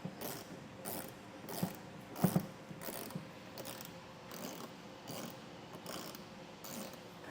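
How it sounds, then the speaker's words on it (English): A ratchet tool clicks in steady, repeated strokes as T25 screws come out of the fender liner on a 2018 Volvo XC60, faint and close with a few sharper knocks in between. "we're going to remove these T25 screws that hold in the fender liner"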